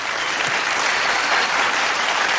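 Audience applause at an award show, a loud, dense burst of clapping from a large crowd filling the short stretch without any voices over it.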